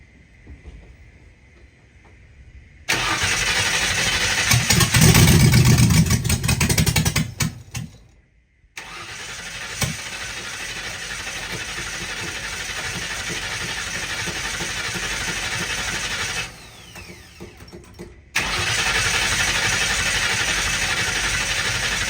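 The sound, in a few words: engine starting for the first time in years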